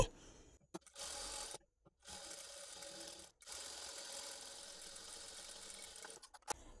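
A sewing machine stitches a strip of folded cross-cut cloth piping, running in close, steady mechanical bursts broken by short pauses.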